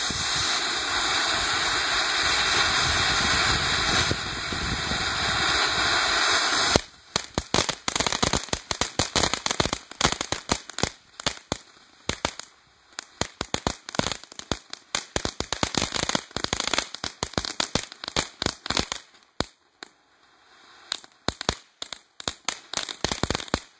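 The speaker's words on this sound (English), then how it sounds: "Backyard Fountain with Light Crackle" A red Backyard Fountain firework from the Wise Guy assortment, loud and steady, hissing for several seconds before giving way to dense, irregular crackling pops that continue to the end.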